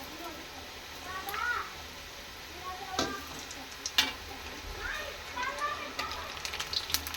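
Sweet shankarpali dough fries in hot oil with a soft, continuous sizzle, broken by occasional stirring scrapes and clinks, while a voice talks quietly nearby.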